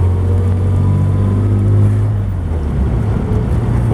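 A 1947 Chevrolet Fleetline Aero Sedan with vacuum-assisted shifting drives along, its engine a steady, loud low drone throughout with continuous road and wind rumble and no talk.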